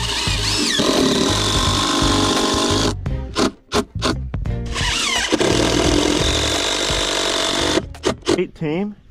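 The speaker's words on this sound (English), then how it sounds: "Wrap the Resi around the stick, then screw it in" A power drill drives screws through a Resi landing mat into a wooden stick outdoors, whirring in two long sustained runs, each ending in short stuttering bursts as the screw seats.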